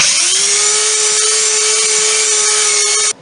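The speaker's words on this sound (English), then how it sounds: "Once the glue on the plugs dries, I sand them down with a belt sander." A belt sander grinds down dried, glued wooden plugs on a kitchen pantry cabinet, giving a loud, steady high-pitched whine that runs unbroken for about three seconds, then cuts off abruptly.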